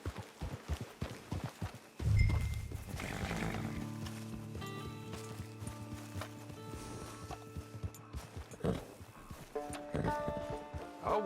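Horse hooves clip-clop in the Western video game Red Dead Online, with a quick run of close steps at the start, then sparser hoofbeats under swelling in-game music and ambience.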